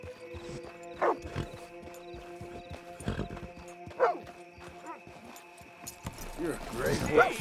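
Hooves of a horse in Red Dead Redemption II clip-clop in uneven bursts with a brief whinny near the end, mixed with game ambience and a voice talking over it.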